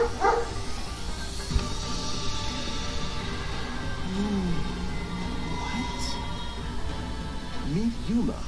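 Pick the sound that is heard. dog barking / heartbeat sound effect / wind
dog barking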